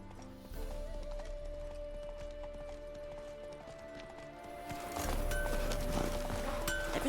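A horse's hooves clip-clop in The Witcher 3: Wild Hunt at a steady walking rhythm, fairly quiet and close, growing busier and louder toward the end amid faint ambient game sounds.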